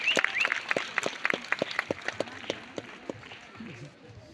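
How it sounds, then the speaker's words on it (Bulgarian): A school farewell audience claps for graduating class 12 A, a brisk run of sharp, distinct hand claps at moderate distance that thins out and fades toward the end. "Аплодисменти за 12 А клас"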